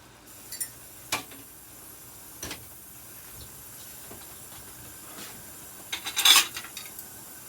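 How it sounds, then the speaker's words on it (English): Dishes being washed in a kitchen sink, with sparse clinks of dishware and cutlery and a brief rush of running water near the end, all fairly quiet. "So we are going to start some dishwater so I can finish up the dishes that I started yesterday."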